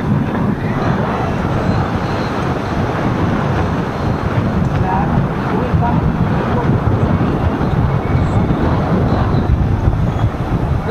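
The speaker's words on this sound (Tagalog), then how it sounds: "Grabe, last na hangin!" Strong wind roars steadily across the microphone throughout, a loud, unbroken rush at a sailing regatta, the Oz Goose Nationals in Legazpi City, Albay, Philippines.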